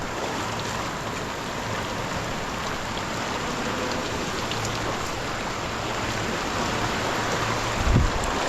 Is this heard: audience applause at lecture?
no